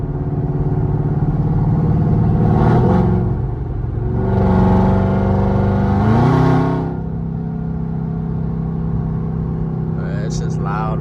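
A supercharged Hemi car engine, running through stock mufflers, accelerates in several loud surging pulls, with blower whine rising through each gear before settling to a lower cruise, heard close from inside.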